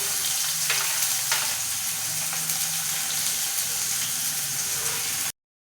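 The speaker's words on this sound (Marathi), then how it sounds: "लसूण टाकला आता कांदा टाकून घ्यायचा." Onion fries in hot oil with cumin seeds and garlic for a moong usal, a loud dense sizzle with occasional stirring knocks, cutting off abruptly before the end.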